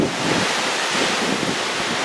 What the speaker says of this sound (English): the wind is really whipping now.